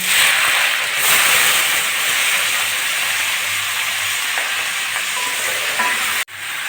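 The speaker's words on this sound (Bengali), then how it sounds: "কয়েক টুকরো কাঁচা লঙ্কা ফোড়ন দিয়ে আমি আলু আর বরবটিগুলো ছেড়ে দেবো" Potatoes and yardlong beans fry in hot oil with nigella seeds and green chillies, a loud, continuous close sizzle with a brief clunk near the end.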